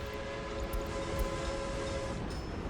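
A video game freight train rumbles steadily along the track with a long string of cars, including hazardous waste cars, in a continuous low rolling drone with faint clanks and no talk.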